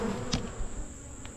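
Honeybees buzzing, agitated after a swarm capture and hive opening, a continuous close drone with a couple of brief individual bees passing near.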